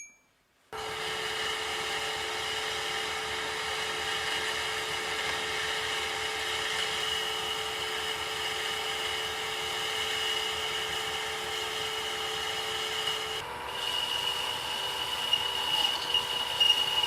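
Boring bar cutting metal on a lathe, a steady, close, high whining hum with constant level that shifts tone briefly near the end, no talk.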